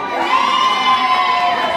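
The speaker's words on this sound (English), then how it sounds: "Musa, make some noise" Live concert crowd cheering and whooping at an unplugged show, a sustained loud roar of many voices with high shouts layered on top throughout.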